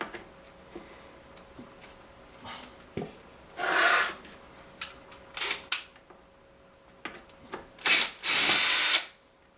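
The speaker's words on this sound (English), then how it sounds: "I gotta file some off right here. I don't want to break this plastic." Plastic on a Whirlpool washer hinge, model GHW9150PW4, is filed by hand in short rasping strokes, close and fairly quiet, with clicks and brief pauses between bursts and no talking.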